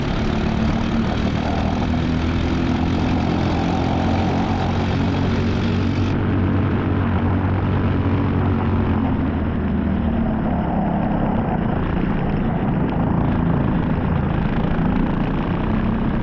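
Senior Briggs racing karts launch into a rain-soaked final at VIMC during a winter series, a dense, loud, unbroken engine drone that holds steady for the whole stretch with no voices.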